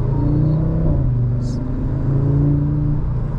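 A 2024 Audi RS3 accelerating onto a road, its engine a loud, steady low rumble building throughout the short pull with a brief higher whir partway through.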